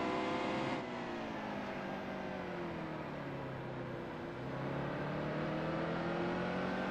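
A NASCAR Cup race car engine at Martinsville in the video game NASCAR Heat 2 drones loudly and continuously, its pitch dipping and then rising again as the car comes back on the throttle.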